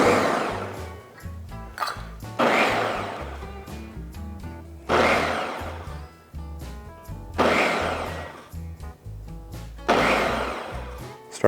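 A Ninja Detect blender on mince mode chops food in repeated loud pulses, each a few seconds of rising whirring roar followed by a brief pause, close and dominant with no speech.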